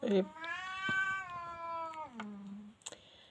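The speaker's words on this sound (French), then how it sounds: "vous avez droit au concerto de mon chat" A house cat lets out one long, drawn-out meow that bends downward at its end, fairly close, with a few soft clicks and taps around it and no talking.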